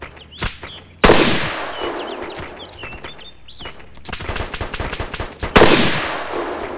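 A gunner fires a machine gun in ArmA II, with sharp bursts and single cracks of rapid fire, some loud and close, over quiet chirping in the background.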